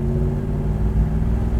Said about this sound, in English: Listen to those pipes, man.